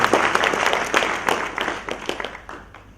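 A short burst of audience applause for the author, an engineer, at a book event, scattered claps that start strong and thin out over three seconds, moderately distant.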